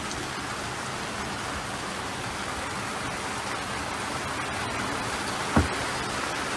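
Heavy rain pours down on a racing sailboat at sea. The dense, even hiss of the downpour drums on the surfaces throughout, with one sharp knock near the end.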